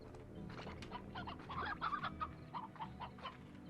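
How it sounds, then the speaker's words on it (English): Chickens in the video game Slime Rancher cluck in a scattered series of short, bright, fairly soft calls over a low background hum, with no speech. "Oh, chickens."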